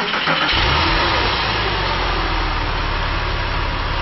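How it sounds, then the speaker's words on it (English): A Porsche 996 911 fitted with a Super Sprint sports exhaust starts up close by. The starter catches within half a second, and the engine settles into a loud, steady, throaty idle with no talk. "show you the difference in the sounds between the standard Porsche exhaust and the Super Sprint kit. Okay, we're just about to start it up."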